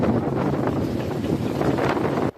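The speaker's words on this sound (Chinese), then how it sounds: "一阵一阵的强风破坏力是真惊人" Strong typhoon wind from Typhoon Krathon making landfall in southern Taiwan, a loud, continuous roaring buffet of gusts battering the microphone throughout, cutting off abruptly at the end.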